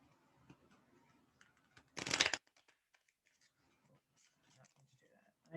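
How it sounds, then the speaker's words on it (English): A deck of tarot cards is given one quick, crisp riffle shuffle, a brief burst in an otherwise quiet room with faint, soft talking before and after. "I'm not shuffling my cards like that anymore."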